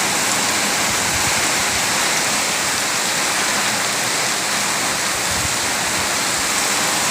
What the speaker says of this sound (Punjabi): ਦੇਖੋ ਸਪੀਡ ਕਿੰਨੀ ਮੀਂਹ ਦੀ